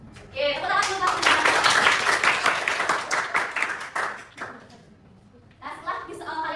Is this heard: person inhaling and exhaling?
no